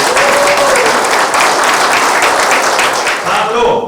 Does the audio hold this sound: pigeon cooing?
no